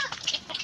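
Chickens waiting to be fed cluck in short, quick bursts, faint and close, several rapid clucks in under a second.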